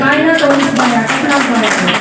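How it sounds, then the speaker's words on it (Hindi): A congregation claps along during a church prayer and fasting service, a dense, continuous patter of many hands under a preacher's voice. "ताली बजाइए"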